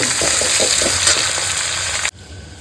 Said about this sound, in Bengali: পেঁয়াজ এর মধ্যে দেবো দিয়ে পেঁয়াজটা একটু লালচে লালচে করে ভাজবো